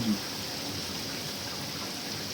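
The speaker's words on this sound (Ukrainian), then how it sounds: "Ще цього року такого дощу не було. Перший літній дощ у нас." A warm first summer rain falls as a soft, steady, even hiss of drops outdoors, continuous for a couple of seconds with no clear voice over it.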